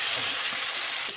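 Salted eggplant pieces frying in mustard oil with black cumin seeds in a kadai, a dense, continuous hiss of sizzling close up and alone, steady for its short length.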